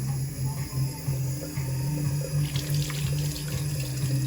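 Warm water runs steadily from a tap into a restaurant washroom sink with gold-finished basins, a continuous close splashing stream with no talking.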